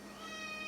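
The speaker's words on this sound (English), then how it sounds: "you'll have to excuse Layla if you're hearing her meowing in the background" A female pet cat gives one short, drawn-out meow from the background, faint and alone with no other sound around it.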